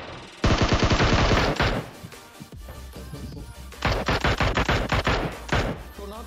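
A minigun in a video game fires in two long, rapid, loud bursts with a quieter gap between them, each a dense stream of sharp shots, close and dominant.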